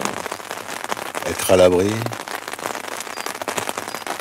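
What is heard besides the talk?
rain falling outside a shelter while bivouacking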